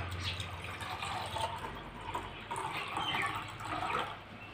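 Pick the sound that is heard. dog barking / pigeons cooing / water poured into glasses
water poured into glasses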